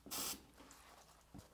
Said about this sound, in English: just take some brake cleaner and spray a bit of brake cleaner